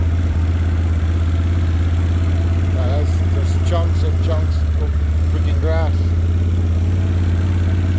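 A running tractor engine at a grass-choked field plot being cultivated, a steady low idling drone throughout with someone talking over it.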